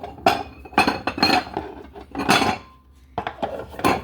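Ceramic bowls and dishes clink and clatter in a kitchen as a tasting bowl is pulled out, several sharp bursts of knocking and chiming, close and loud with short pauses between.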